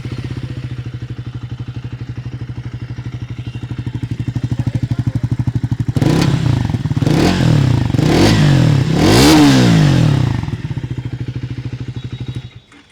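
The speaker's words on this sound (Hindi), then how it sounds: "यहाँ पर इसकी जो एग्जॉस्ट साउंड है ये भी मैं आप लोगों को सुनाता हूँ" A Triumph Tracker 400 motorcycle with a metallic exhaust cover and dual pipes idles with a steady, loud thumping beat, then revs sharply several times in quick blips before settling back to idle, with a faint clatter underneath.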